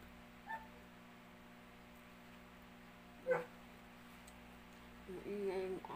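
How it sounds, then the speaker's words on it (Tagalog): A dog barks a few times in the distance, short isolated yips spaced apart over a steady low hum, with a louder burst near the end. "aso namin doon sa labas."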